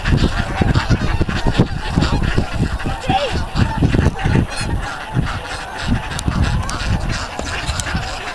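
A noisy flock of ducks being fed, honking and calling over one another, close by and continuous, with scattered sharp calls and wing flurries throughout.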